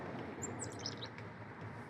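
Wild birds by a river give a few faint, high chirps and tweets over a soft, steady rush of ambient noise, with no voices.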